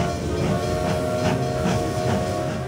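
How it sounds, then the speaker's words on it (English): A train departs in the video game Manor Matters with a loud, steady hiss and rumble, rhythmic chugging pulses, and a sustained whistle-like tone. "The train is leaving."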